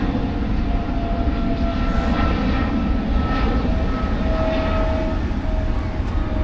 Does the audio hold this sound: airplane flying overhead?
yes